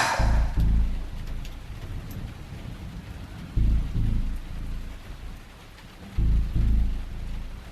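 Heavy rain falls steadily and closely on a surface throughout. Three deep rolls of thunder rumble over it at intervals in a stormy night scene.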